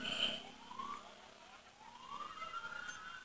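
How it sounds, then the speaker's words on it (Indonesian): Siren of an ambulance on a city street in Purwakarta, a rising and falling wail sweeping up and down at moderate distance, with traffic noise underneath and no talk. "Kalau ada ambulan gitu guys, jangan dideketin ya."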